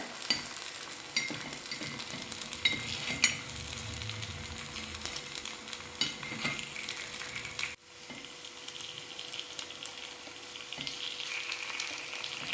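Paniyaram batter fries in a pan with a steady soft sizzle and scattered light taps and scrapes as the pieces are turned, and a brief drop in the sound partway through.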